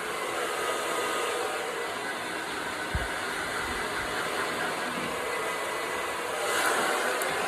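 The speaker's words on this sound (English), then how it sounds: "move the hair around with my fingers, dry it a little bit" A hair dryer blows steadily while hair is being dried for volume, giving a continuous close, even whoosh of airflow with no talking.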